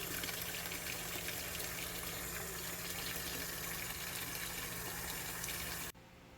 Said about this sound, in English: we'll just go ahead and move those into a rinse. Just some fresh cold water.